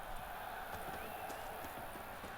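Hoofbeats of Roach, the horse in The Witcher 3 (Blood and Wine), a steady galloping clip-clop under a continuous bed of ambient game noise, moderately loud throughout.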